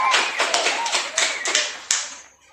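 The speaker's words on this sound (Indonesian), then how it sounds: "Mari kita tepuk tangan untuk kelompok 3" A small group claps for the third group at a community health session on stunting and healthy latrines, a short patter of hand claps with a few sharper individual claps before it fades.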